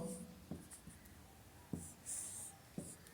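Writing strokes during a lesson scratch softly in a few short bursts over quiet room noise, faint and close, with no talk.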